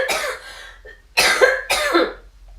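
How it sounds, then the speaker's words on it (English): A person gives three sharp, close coughs, a harsh single burst followed after a pause by two quick ones in succession, with near silence between them. "Can I just cough?"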